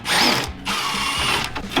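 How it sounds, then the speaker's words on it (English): A power tool whirs loudly in short bursts while bolts are worked loose on a Jeep bumper, with brief pauses between runs and a close, harsh mechanical whine. "get all the metal that's flapped over the hole off so I can get my torque wrench in"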